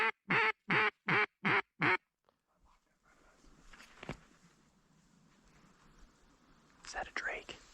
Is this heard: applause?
no